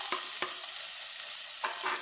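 Chopped onion sizzling with browned minced garlic in a pan, a steady hiss broken by a few soft scraping stirs, close and alone.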